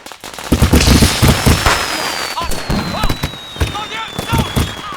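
Fireworks in a film scene pop and crackle in quick bursts, with a thin whistling streak rising over them, loud and busy, mixed with voices in the background.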